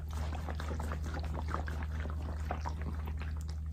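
Water sloshing inside a woman's chest after a mastectomy, a close, quiet, wet swishing and gurgling that churns steadily over a low hum, with no talking.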